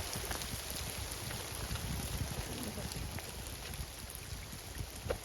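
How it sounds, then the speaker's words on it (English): Heavy rain pours through a forest, a dense steady hiss of drops striking leaves and the ground, loud and close without a break. "It's raining so hard."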